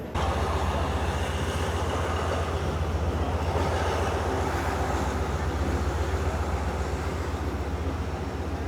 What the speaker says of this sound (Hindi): ट्रेन हमारी बिल्कुल 4-5 किलोमीटर की रफ्तार से ही चल रही है।